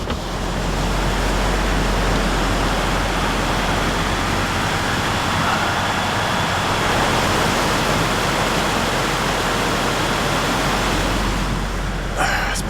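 A cold river rushes steadily in a broad, continuous wash of water noise, loud and close, with no talk over it.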